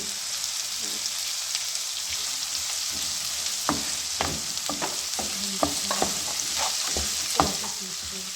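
Cabbage fries in a pan with a constant hissing sizzle, punctuated by close, sharp scraping clicks of a spoon stirring it at irregular intervals.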